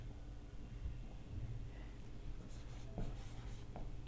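Chalk or marker scratching across a board during a calculus lecture on Bernoulli differential equations, a continuous close scraping stroke with short bursts of brighter squeaks in the second half, no talking over it.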